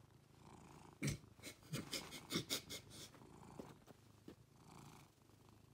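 A house cat purring close by, a soft steady rumble broken by a few louder snuffly breaths and rustles, no talk.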